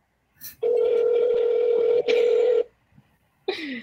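A steady electronic ring tone heard through a phone speaker, two long buzzing rings with a short break, then a brief higher tone starting again.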